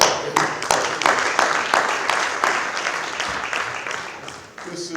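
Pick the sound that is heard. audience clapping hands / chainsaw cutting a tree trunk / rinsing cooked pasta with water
audience clapping hands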